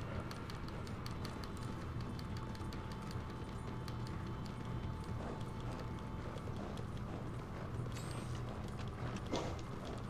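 Horse hooves galloping in Red Dead Redemption 2, a quick steady clip-clop rhythm running throughout at low level, with faint mechanical ticking underneath.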